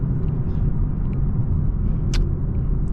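A car fitted with a 5-inch catless downpipe and full exhaust rumbles with a deep, throaty, continuous drone, loud and close, with a brief hiss midway.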